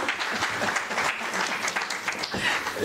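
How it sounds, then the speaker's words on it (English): Conference audience applauding, a steady patter of many hands clapping at moderate volume for a few seconds, with no speech over it. "Let's give her a round of applause again."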